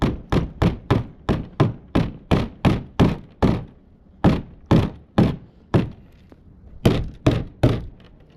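Steady hammer blows knock a tight-fitting part into a kayak's steering, about two per second, with a short pause midway before the tapping resumes, close and solid.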